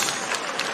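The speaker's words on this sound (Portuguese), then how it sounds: "nós vamos saudar a Trindade Santa com aplausos" Church congregation applauding during a worship service, a continuous dense wash of clapping from many hands at steady loudness throughout the brief moment.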